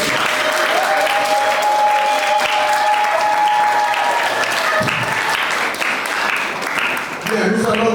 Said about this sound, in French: On peut applaudir pour le...